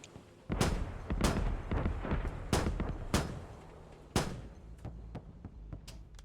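Gunfire from the video game Squad: several sharp, loud shots and booms at irregular intervals, some close and some more distant, with quieter pops between them.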